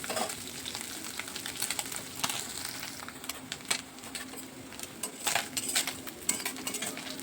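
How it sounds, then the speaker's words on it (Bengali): Small mourala fish fry in a pan of hot oil, giving a steady, close crackling sizzle with scattered sharper pops and spits throughout. "মাছগুলো কিন্তু এপিট ওপিট করে লাল লাল করে ভেজে নিচ্ছি।"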